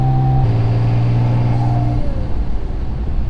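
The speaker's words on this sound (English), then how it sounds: "Dude, these turbos. These sound so good." A turbocharged Mitsubishi 3000GT VR4 engine holds a loud, steady, droning rev up close, then the tone breaks off into a rougher, rumbling idle for the last second or so.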